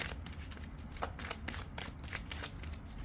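Tarot cards riffle and slap together in a steady shuffle, a run of soft crisp card flicks close by, alone with no talk.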